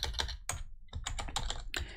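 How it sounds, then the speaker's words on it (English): Rapid keystrokes on a computer keyboard while entering a Windows Server 2022 Core command to install an Active Directory domain controller, a burst of clicks, a brief pause, then a second quick run of typing, close and clear. "So I'm going to type"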